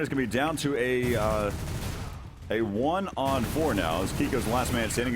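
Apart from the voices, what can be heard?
gunfire in the video game Counter-Strike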